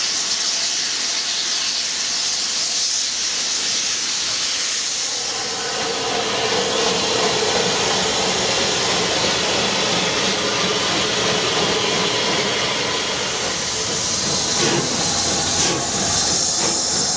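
Model steam locomotive running and making steam and smoke, a loud, continuous rushing hiss that swells partway through, with no talk.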